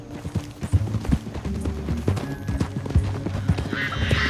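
Horse hooves gallop in Red Dead Redemption 2, a rapid, loud clip-clop rhythm of repeated thuds pounding close by without pause, with a brief hiss rising near the end.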